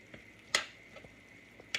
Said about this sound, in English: I went ahead and put my onion and peppers in with my ground beef so it can be cooking